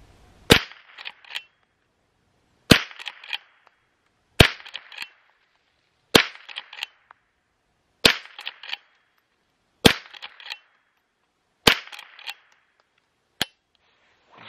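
Eight sharp .22 caliber rifle shots from a Henry 001 crack outdoors at roughly two-second intervals, each followed by a brief metallic rattle of the lever action cycling, with no voices.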